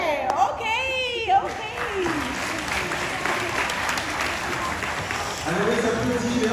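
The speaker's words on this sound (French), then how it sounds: "Alors les applaudissements, merci beaucoup" An audience at a school musical performance bursts into sustained applause and clapping, with voices talking over it at the start and again near the end.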